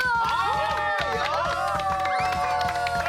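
Studio audience on a Korean military-themed TV show clapping and cheering, a busy burst of claps and whoops mixed with voices and bright musical tones, loud and continuous for a few seconds.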